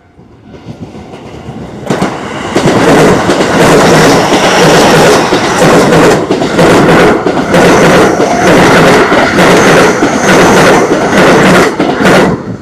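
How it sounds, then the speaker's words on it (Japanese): A train pulls into a station platform and passes through, its loud rumble and rhythmic clickety-clack of wheels on rails building after a quiet start and holding steady close by, with no talk. "4番線に列車がやってきます"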